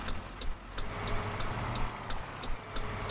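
Ford Cargo D1210 truck in Euro Truck Simulator 2 idles with a low engine rumble while a sharp ticking signal repeats at an even rhythm over it.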